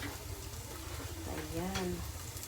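Sardines stirred and frying in a pan give a steady close sizzle with scraping stir sounds, and a voice briefly talks over it.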